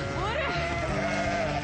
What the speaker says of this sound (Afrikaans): Man is besig om lammers te sny.